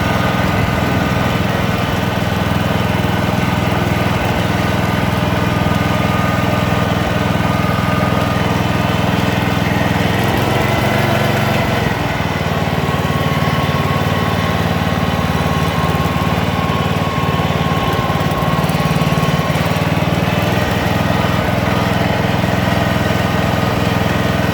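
A 1983 John Deere 111 lawn tractor engine runs steadily and loudly up close, a continuous rough mechanical drone with slight variations in pace throughout, no voices over it.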